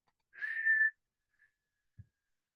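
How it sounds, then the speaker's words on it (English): During a Whistle Kriya meditation, one quiet, steady whistled exhale through the mouth lasts about half a second in near silence, followed by a faint soft tap. "Exhale as a whistle."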